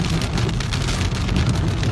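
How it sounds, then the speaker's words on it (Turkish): Heavy rain falling on an exposed mountain summit near Akseki, Antalya, a dense, steady wash of drops with a low rumbling undertone, loud and continuous throughout with no voices. "Çok güzel, şiddetli bir yağış var."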